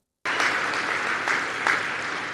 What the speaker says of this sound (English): And yes, the audience is clapping.